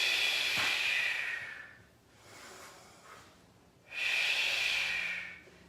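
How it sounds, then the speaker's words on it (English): Deep, slow breaths during a foam-rolling stretch routine: a long, breathy hiss of air, a quiet pause with softer breath, then another long, airy exhale, close and unaccompanied by talk. "Let's get a couple inhale, exhales here."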